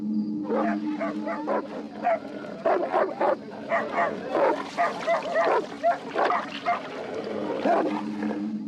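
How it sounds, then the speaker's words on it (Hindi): Several dogs bark, yip and whine excitedly at a snake, a busy, continuous chorus of close barking over a steady background hum. "तेज पंजों और मजबूत जबड़ों वाले ये कुत्ते इसके कट्टर दुश्मन हैं।"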